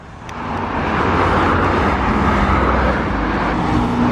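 A McLaren supercar passes on a road near Monaco, a broad, steady engine roar swelling up within the first second and holding loud and close through the rest.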